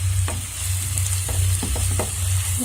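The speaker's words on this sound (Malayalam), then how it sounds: "നന്നായിട്ടൊന്ന് വഴറ്റിയിട്ടെടുക്കണം." Green chilies sauté in hot oil for a soya chunks roast, a loud continuous sizzle with a low steady hum beneath and several scraping spatula strokes, with no one speaking.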